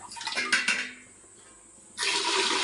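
Water is poured onto rice for a vegetable pulao in a home kitchen, a close splashing pour that eases off, then resumes strongly near the end.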